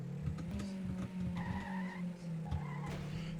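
Car engine droning steadily in the Trackmania racing game, with tires skidding and squealing in brief bursts as the car slides through corners, loud and close throughout.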